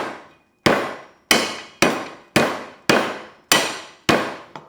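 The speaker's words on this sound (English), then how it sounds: "Lemongrass, give them a good bash first." Lemongrass stalks being bashed flat for a slow-cooked Vietnamese bo kho beef stew: about eight heavy, sharp thuds land close and loud in a steady rhythm, each ringing off briefly, with no talking.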